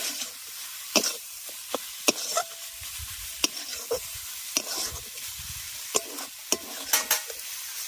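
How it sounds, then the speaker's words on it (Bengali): Carrot filling with small chopped dry fruits stirred in a pan for dudh puli pitha, a quiet steady sizzle under sharp spoon scrapes and taps that come irregularly, close and moderately soft, with no talking. "এবার ড্রাই ফ্রুটসগুলো দিয়ে ভালো করে এটার মিশিয়ে নেব"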